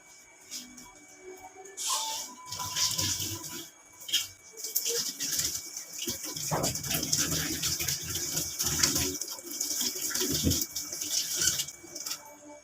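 Kitchen knives washed under a running tap in a home kitchen, with a steady stream of water and intermittent clatter and splashing as the blades are handled, fairly close by.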